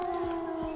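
A steady, droning siren wails in the video game Zompiercer, sustained and unbroken through the short moment, loud and close with no talking over it.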